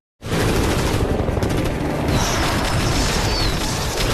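CGI movie explosions and gunfire in a chase scene: a dense, continuous roar of rapid gunfire and blasts, loud and chaotic, with rumbling booms layered throughout and no pauses.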